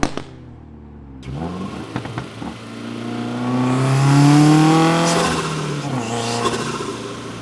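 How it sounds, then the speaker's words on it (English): Modified Subaru WRX with bolt-ons, tune and a loud aftermarket exhaust, starting with a burble, then revving up to a strong roaring peak before easing off, close and loud. "a really, really rowdy exhaust"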